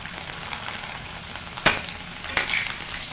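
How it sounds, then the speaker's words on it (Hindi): Sliced potato chips fry in hot oil with a steady close sizzle, and two sharper scrapes or stirs stand out over the frying. "आलू को इस तरीके से काटे हैं और इसका हम तेल में फ्राई करेंगे"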